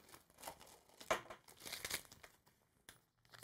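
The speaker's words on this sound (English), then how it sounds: "And then opening up your sterile gloves" Sterile glove packaging being peeled and torn open, with crinkly paper crackles and a sharper tearing burst near the middle, close and fairly quiet, no voices.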